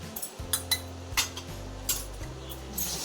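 A metal spoon clinks and scrapes around a pan while spices and fish are mixed, giving a series of sharp, close taps and rattles.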